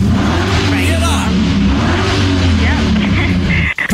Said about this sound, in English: But I've got a Subaru. Subaru. A WRX STI. Got it here now.